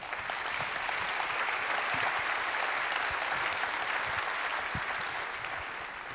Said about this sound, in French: Je vous demande de les applaudir très fort.